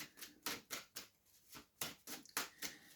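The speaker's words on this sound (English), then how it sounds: "It's making me shuffle." Quick bursts of tarot cards riffling and snapping together, about eight short rustling bursts in a loose rhythm, close and fairly quiet, with no voices.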